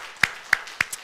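A few separate hand claps from a church congregation at a 10th-anniversary thanksgiving service, three or four sharp, evenly spaced claps close by in a quiet room, with no voices.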